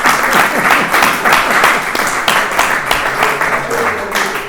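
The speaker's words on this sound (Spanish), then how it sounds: "vamos a darle una gran ovación" Enthusiastic applause from an audience at a bullfighting talk event, dense rapid clapping held steady for several seconds, fairly close and loud.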